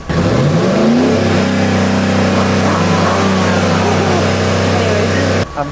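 A car engine suspected of having water in it revs up steadily, then holds a loud, sustained drone before cutting off abruptly near the end.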